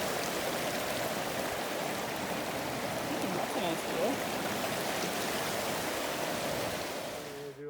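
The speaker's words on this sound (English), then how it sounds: "There's the creek." Steady broadband rush of a mountain creek flowing along a forest hiking loop near Littlehorn Meadows, continuous and fairly close, with a brief spoken remark over the water near the end.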